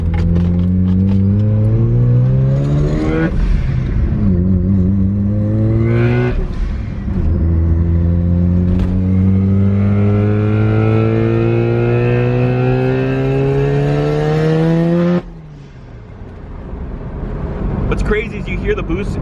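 A modified Mazda RX-7 with a Max Orido lip kit accelerates hard through the gears on the street, its rotary engine and turbo boost climbing in long rising pulls with gear changes, loud and close from inside, then a drop to a lower drone.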